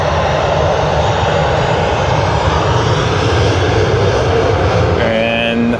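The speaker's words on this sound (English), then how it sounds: "QF12 has touched down on runway 34 left" Qantas Airbus A380 landing at Sydney Airport, arriving from Los Angeles: a loud, steady roar of jet engines fills the whole stretch, with a faint higher whine rising near the end.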